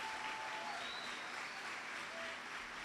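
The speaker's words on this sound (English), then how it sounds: "a round of applause?" Applause from the audience at a regional certification ceremony, a steady wash of many clapping hands, faint and distant, running evenly throughout.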